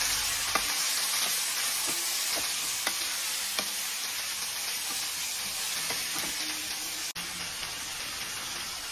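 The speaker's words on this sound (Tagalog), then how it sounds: "Iligay ko na yung kamatis." Tomatoes fry for pinakbet in a pan, a steady close sizzle and hiss with occasional stirring clinks and scrapes throughout, no voices.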